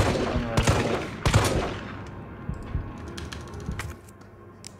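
Gunfire in Resident Evil 3 as a gun is emptied: a few loud, sharp shots early on, then lighter scattered clicks and taps that fade toward the end.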